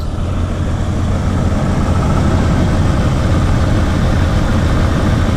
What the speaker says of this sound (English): Truck's sitting here idling,